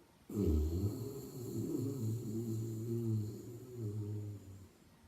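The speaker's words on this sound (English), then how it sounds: "in this pranayama, we inhale, kind of like with a snoring sound" A long, loud snoring-like inhale rasps steadily in the throat during a pranayama breathing exercise, close and alone, lasting several seconds.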